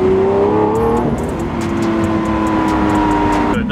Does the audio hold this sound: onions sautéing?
no